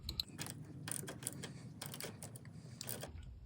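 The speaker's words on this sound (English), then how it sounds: "Put your thumb on the ratchet and snug it up." A hand ratchet clicks in short bursts as it snugs a 12 mm nut onto the electrical stud of an alternator on a Ford F150 with a 5.4L engine, faint and close with no talking.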